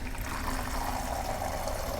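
Tap water runs in a steady, soft stream into a pitcher, a continuous trickling pour heard close and fairly quiet with no voices.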